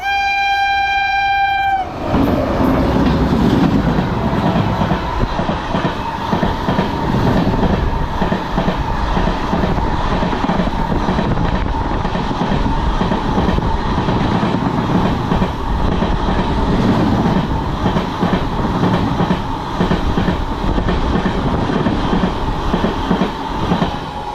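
A train horn sounds briefly, then a long MEMU express train rumbles and clatters past on the rails near Kuthalam station, Tamil Nadu, steady and loud throughout.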